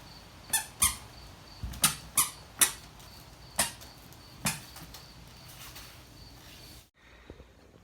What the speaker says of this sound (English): His squeaky shoes.